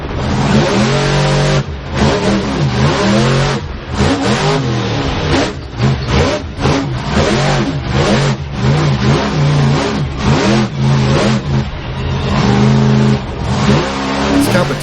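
Monster truck engine revving hard at a championship series track, loud repeated surges and drops in pitch close by, with brief gaps between bursts of throttle.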